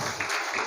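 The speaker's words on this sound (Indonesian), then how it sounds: "Tepuk tangan untuk SR dulu." Students at a Maulid Nabi school celebration clap together. A short, dense burst of applause fills the space evenly from start to end.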